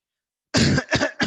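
A single burst of coughing, three quick harsh coughs close to the microphone after a moment of silence.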